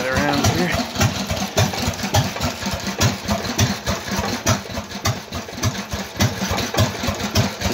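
A Stover stationary engine meant for a cement mixer runs loud and close, its steady rhythmic chugging firing pulses continuing without a break.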